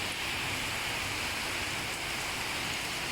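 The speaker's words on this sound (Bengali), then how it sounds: "এখন আবার বৃষ্টি শুরু হয়ে গেল দুপুরবেলায়" Steady rain falling on an open courtyard at midday, a dense even hiss of large drops, constant and close, with no voices.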